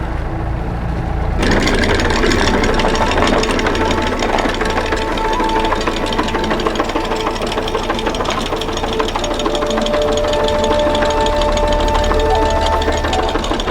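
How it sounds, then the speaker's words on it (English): A sailboat motors along under engine power on glassy water, a steady close diesel chug with rhythmic knocking that holds on without pause, plus a few faint tonal bits over it and no clear talking. "The only thing missing is a little bit of wind, so we have to motor."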